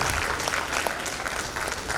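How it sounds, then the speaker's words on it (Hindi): A crowd at a school felicitation ceremony for the chief guest breaks into continuous applause, dense and steady but somewhat distant and soft, with no voices over it. "Please give a big round of applause, everyone."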